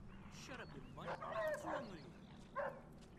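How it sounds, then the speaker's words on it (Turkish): A dog in the video game Mafia 2 barks and yips in short bursts at moderate distance, several quick yelps clustered mid-clip with another near the end, over a low steady game ambience. "Shit, that dog could be a problem."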